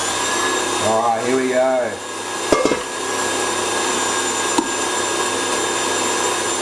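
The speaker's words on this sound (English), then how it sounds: "I'm going to turn on the grinder, and I'm going to start to grind some meat." An electric meat grinder runs close by, grinding meat for burgers with a loud, steady motor drone throughout. Someone speaks briefly over it early on, and a couple of sharp knocks cut in partway through.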